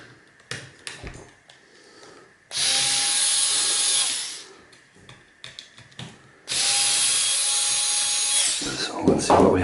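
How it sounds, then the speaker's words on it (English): Power tool whirring in two sustained bursts, driving screws out of the control board of a sensor LED light, with quieter clicks and handling noises in between. "So again, we just remove the screws."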